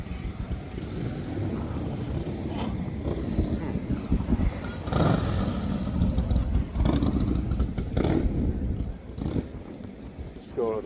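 Harley-style motorcycles idle and rumble at a drag strip during test and tune, a low uneven engine burble running throughout at mid distance with occasional revs, while people talk over it.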